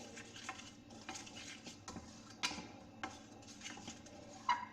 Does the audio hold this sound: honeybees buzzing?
no